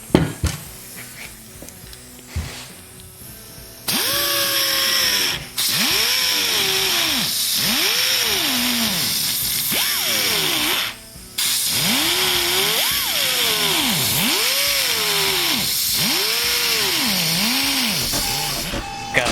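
Drill fitted with an Easy Thread thread-chasing bit cutting during a Sears Custom 10XL chainsaw restoration, a series of loud whining bursts that rise and fall in pitch as the motor bogs and recovers, with short pauses between.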